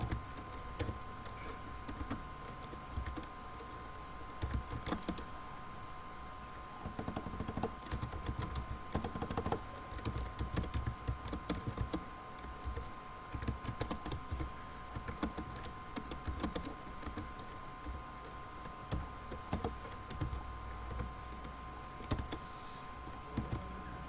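Code is typed on a computer keyboard in a steady run of soft, fairly quiet keystrokes over a faint electrical hum, with no talking.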